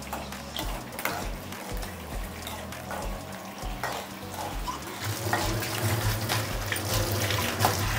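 Water runs steadily from a tap as someone rinses up mid-cooking, a continuous close splashing wash that grows slightly louder toward the end, with no talk.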